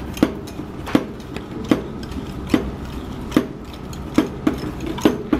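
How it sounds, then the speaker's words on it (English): A whisk beats egg yolk with cornstarch and sugar in a bowl, giving a series of uneven, clicking taps against the bowl at an irregular pace over a low, soft scraping background. "Whisk it up."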